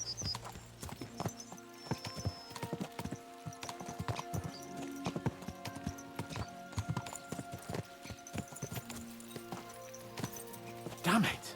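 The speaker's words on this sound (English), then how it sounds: "Let's really spur these horses on, eh?" Horses galloping along a road in the medieval RPG Kingdom Come Deliverance 2, with brisk, uneven clip-clop hoofbeats close by, a whinny near the end, and someone talking over the hooves throughout.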